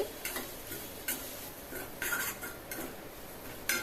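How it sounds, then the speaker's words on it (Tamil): A spoon stirs banana flower poriyal in a metal pan, producing quiet rhythmic clinks and taps against the pan at a steady, unhurried pace. "இப்போ நல்லா கிளறிட்டே இருங்க"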